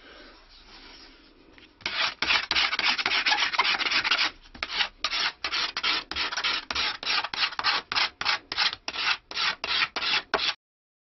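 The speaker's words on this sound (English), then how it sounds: "What I'm doing now is using a scraper to just slightly taper the edges of the back." A hand scraper shaves the edges of a stick dulcimer's wooden back, first in one long continuous rasp, then in a run of short, even strokes with brief gaps between them, close and loud.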